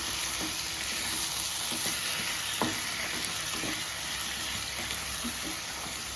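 Marinated chicken frying in a pan, a steady close sizzle with irregular scraping knocks of a spoon stirring throughout, no talking.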